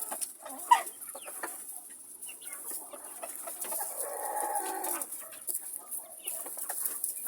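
Legbar hens and their foster chicks cluck and murmur softly nearby in a calm backyard flock, with scattered chirps and faint rustling throughout.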